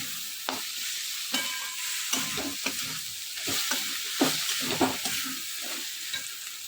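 Dried fish (shutki) is stir-fried hard in a pan: a constant close sizzle broken by irregular scraping knocks of the spatula against the pan, with no voices.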